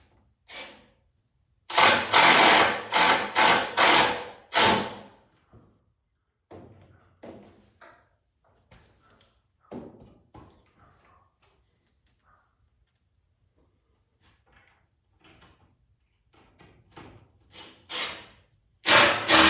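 A power driver sinks 2-inch drywall screws into the wooden keelson of a small sailboat under construction, with several loud bursts in a row followed by scattered knocks and quieter handling sounds, and one more burst at the end.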